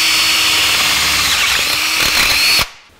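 A power drill bores 3/8 inch holes through a steel brake pedal bracket being fitted to a 1949 Chevrolet gasser, a loud, steady, high grinding whine that cuts off abruptly near the end, with no talking.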